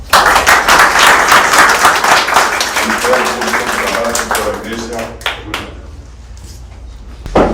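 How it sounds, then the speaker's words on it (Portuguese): An audience at a Lions Club talk on autism gives a round of applause saluting the national flag, loud dense clapping that thins out and stops, with a voice heard near the end. "E saudando o pavilhão com a salva de palmas."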